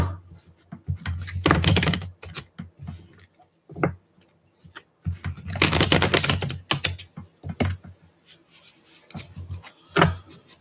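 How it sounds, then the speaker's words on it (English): Tarot cards shuffled by hand close up: repeated bursts of riffling and papery tapping in uneven clusters, separated by short pauses, with no talking. "Yeah, let's do another shuffle."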